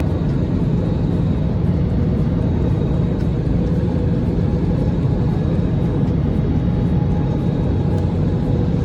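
A loud, constant low roar inside an airliner cabin during landing approach at Mumbai airport drones on without a break, steady and enveloping throughout.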